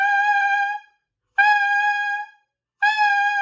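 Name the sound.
saxophone note started with a tongue attack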